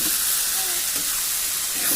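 Dried fish frying in hot oil with ginger and garlic as chilies are added, a loud continuous sizzle and hiss throughout, close up with no talking.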